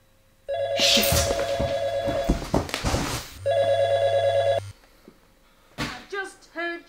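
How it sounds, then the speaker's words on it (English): A telephone rings loudly in two long bursts of electronic trilling with a short gap between them, followed by quieter knocks and clatter at the end. "I just heard your phone"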